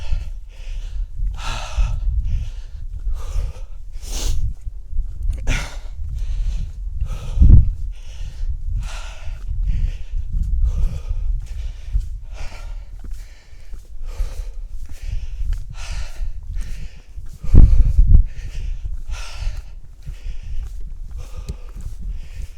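Heavy, labored breathing from someone climbing hills during a leg workout outdoors, repeated gasping breaths in a steady rhythm over low rumbling wind or footstep noise, close to the microphone.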